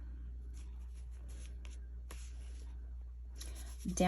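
A pen writing a note on paper, soft intermittent scratching strokes in short bursts over a quiet low hum, ending with a brief louder rustle.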